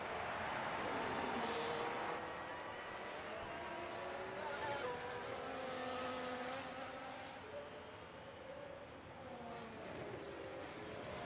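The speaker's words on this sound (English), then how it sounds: "So just letting you listen to the engines there." Formula 1 race car engines in the F1 Manager racing game: a steady layered whine of several cars with pitch rising and falling as they pass, over a constant roar of crowd and track noise, fairly loud throughout.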